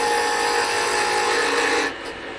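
A tenon cutter made from a wrench takes a peeling cut on spinning wood at the lathe, a steady loud rasping scrape that runs continuously for about two seconds before stopping abruptly.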